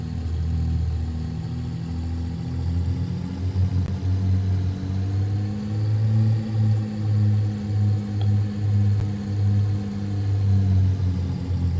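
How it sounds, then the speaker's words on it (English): A DH 88 airplane engine taxiing in the Flight Simulator X game, a steady low droning rumble with gentle rhythmic swells, loud and continuous throughout with no talking. "It takes a lot of work to taxi this airplane."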